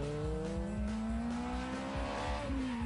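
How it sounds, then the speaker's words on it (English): A Ferrari Scuderia supercar screams around a race track, its engine note climbing steadily under hard acceleration with faint tire squeal, loud and continuous with no talk. "Love the sound of the Scuderia."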